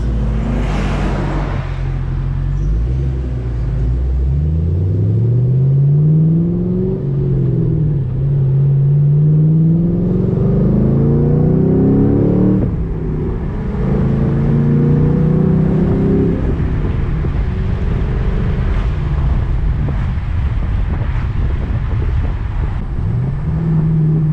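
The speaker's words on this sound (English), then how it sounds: "This car freaking pops so much" A mildly modded 450HP fifth-generation Camaro SS roars from inside the cabin while cruising, its V8 exhaust revving up and down through repeated loud rises and falls, with crackling pops between throttle blips.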